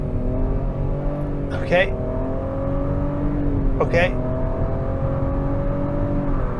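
A 2023 Nissan Rogue with a turbo engine accelerating hard from a standstill in sport mode, a steady rising engine drone broken by two soft gear shifts, heard from inside the cabin, with a brief spoken word.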